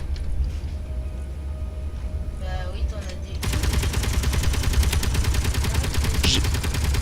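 Rapid continuous gunfire from a Gatling gun in a video game on a Mars base, starting abruptly midway and sustained to the end as a dense, loud rattle after a quieter stretch.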